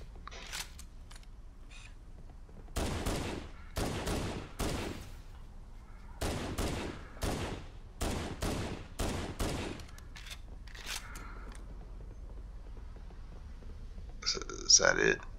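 A pistol fires in Halo: Combat Evolved, with loud single shots that come in quick clusters and short pauses in between, and a louder burst of combat noise near the end.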